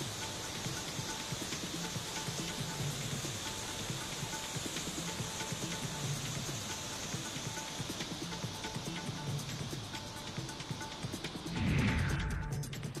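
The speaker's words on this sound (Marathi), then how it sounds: "धरणाच्या सांडव्यावरून पाणी वाहू लागतं" Monsoon water pours over a dam spillway, producing a constant rushing, splashing roar that holds steady and fairly distant throughout, with a brief louder thud near the end.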